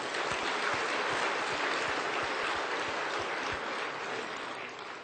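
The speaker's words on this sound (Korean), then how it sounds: "그 두 분에게 박수 좀 해줘요." A congregation at a Sunday church sermon breaks into sustained applause, a thick wash of clapping that stays loud and even before tapering off slightly near the end.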